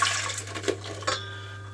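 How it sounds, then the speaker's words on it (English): Water with yeast and honey is poured into a mixing bowl for Persian bread dough, giving a short, steady splashing pour over a constant low hum, with no talking. "we're going to put the yeast with the honey and the water into our bowl"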